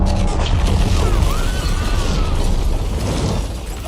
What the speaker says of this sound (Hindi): एक भयंकर धमाके के साथ पूरा शहर कांप उठता है।